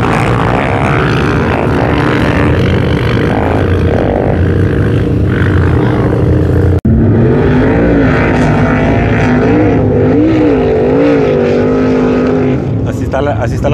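Motorcycles and cars racing on the giant sand dunes of Cuervitos in the Mexicali Valley, Baja California, a loud continuous engine roar with revving pitch swings, close and dominant, mixed with voices.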